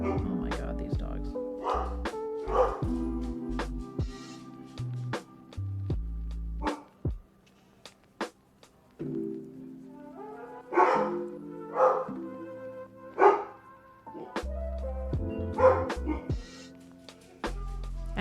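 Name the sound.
dogs barking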